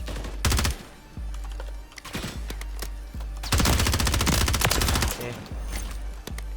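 Assault rifle fire in Call of Duty MWIII: loud, rapid automatic bursts close by, with sharp single shots between longer sustained volleys, over a constant low game hum.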